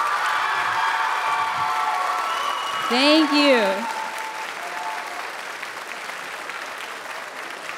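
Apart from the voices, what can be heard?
audience applause at a school celebration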